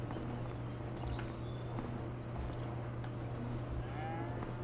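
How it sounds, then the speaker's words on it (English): Cattle low and moo in a Farming Simulator 25 game farm scene, faint calls over a steady hum of background noise. "He has some cows here he wants me to take care of."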